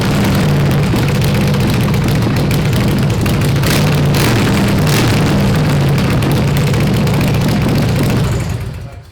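A budget-built bobber motorcycle engine, now running on both cylinders after a module swap and coil rewiring, idles loud and close with a steady low rumble that cuts off near the end.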